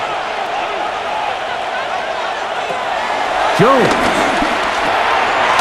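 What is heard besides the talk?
crowd cheering in Madden NFL 26 video game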